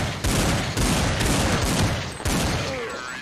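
Loud, close automatic gunfire in a multiplayer shooter game, three long unbroken bursts of rapid shots with brief pauses between them and faint voices underneath.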